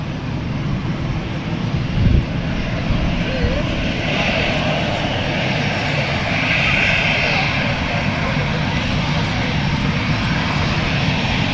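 Continuous loud roar of an EasyJet airliner's engines at Manchester Airport, a dense broadband rumble holding steady throughout with a faint rising whine, close outdoors with no break.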